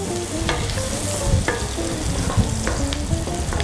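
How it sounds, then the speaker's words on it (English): Garlic sizzles in a pot while being stirred, a steady frying hiss with scraping strokes of a utensil and occasional clinks, close and fairly loud with no talk, part of a one-pot chicken chasseur. "you cook garlic for about 1 minute. Garlic cooks quite quickly, you see. Stir it in, get it spread out."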